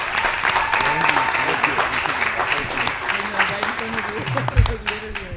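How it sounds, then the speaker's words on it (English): An audience at a fleet week cooking competition applauds its sponsors, steady mid-level clapping running throughout while people talk over it and a brief low thump sounds near the end. "So a big round of applause for our sponsors, Fox Entertainment, the Port of Los Angeles,"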